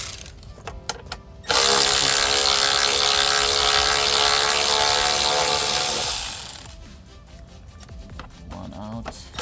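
Allen key bolts are loosened with a ratchet: quick bursts of close mechanical clicking come at the start and end, framing a loud, steady whirring stretch of several seconds in between.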